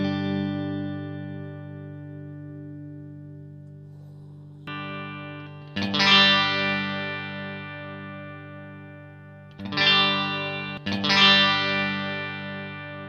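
A Telecaster electric guitar with big pole pickups, in its original tone, rings out sustained chords, with a few sharp strums that bloom and decay slowly; clear, close and alone, with no talking.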